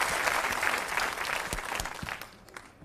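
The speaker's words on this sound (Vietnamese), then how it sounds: "Xin quý vị cho một tràng pháo tay." An audience at a Vietnamese comedy stage show bursts into steady applause that fills the room evenly, then thins out, with a few louder claps near the end.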